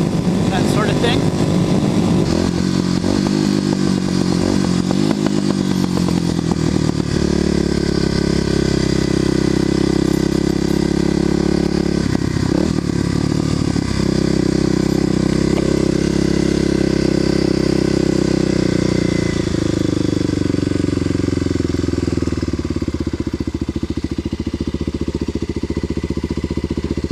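A Kawasaki KLX250SF motorcycle engine runs in a steady, close drone with a deep rumbling tone and some shifts in pitch, overlaid by constant wind rush.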